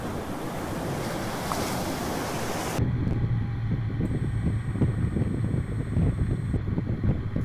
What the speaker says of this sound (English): just taking in the rippling effects of the waves and how it calms the nerves